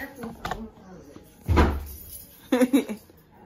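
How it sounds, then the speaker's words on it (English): A child shuts a door with one solid thud in a home, with a softer knock before it and another clunk after, loud and close amid brief voices. "He closed the door and everything."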